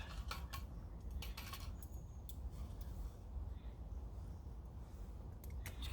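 A spoon scrapes and clinks against a pot of soup simmering over a firebox stove in the woods, with a few brief metallic knocks over a steady low roar of the fire.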